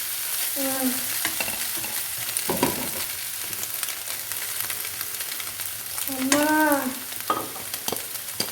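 Egg frying in a pan for fried rice, a steady sizzle with intermittent spatula scrapes, while a voice briefly sounds twice in the background.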